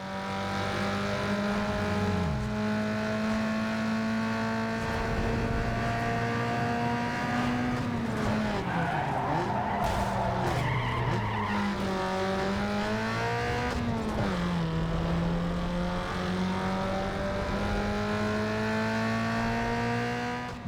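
Race cars in Need for Speed Underground 2 roar through a race. A steady, loud engine drone rises and falls with gear changes, with brief tire squeals and skids near the middle. No one speaks.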